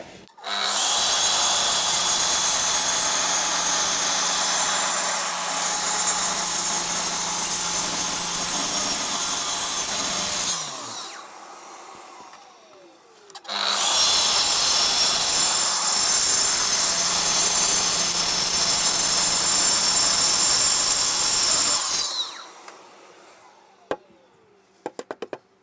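Power saw cutting wood at a 20 mm depth: two long, loud, steady cutting passes of roughly ten seconds each, separated by a short pause, with the blade whine winding down after each pass.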